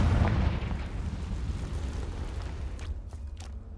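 A fiery Confringo spell explosion in the video game Hogwarts Legacy: a loud, deep boom at the start rolling into a long rumbling tail, with a few sharp crackles near the end.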